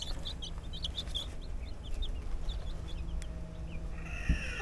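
Chickens being let out of their coop, including small chicks, cluck in short repeated bursts close by, with faint background noise.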